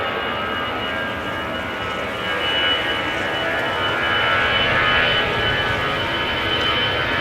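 A Vueling Airbus A320 departing Amsterdam Schiphol roars steadily with loud, broadband jet engine noise, holding a constant, close-sounding thrust rumble that swells slightly toward the end.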